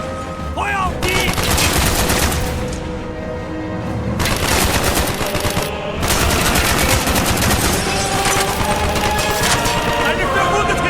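Automatic gunfire from the video game Call of Duty: Black Ops rattles in long, dense bursts with brief gaps, loud and continuous throughout, with shouted voices mixed in.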